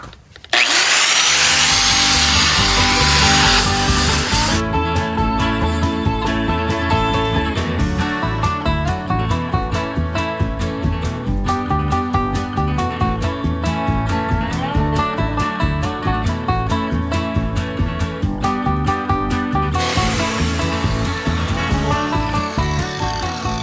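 Power sander working a red oak wooden bowl, a loud steady abrasive whir with rubbing scratchy texture, continuous throughout with slight pulsing as the disc is pressed and shifted, no talk.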